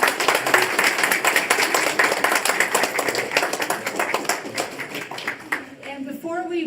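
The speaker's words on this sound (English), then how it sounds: "One more round of applause for" An audience at a journalism conference keynote claps in a dense, sustained round of applause that fades after about five seconds as a speaker begins talking.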